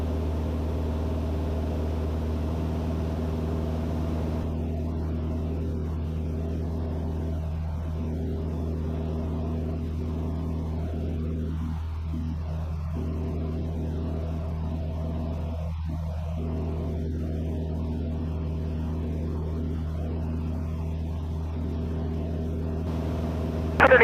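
Steady drone of a Cessna 172 light propeller aircraft engine climbing in flight, a constant low hum that stays even throughout.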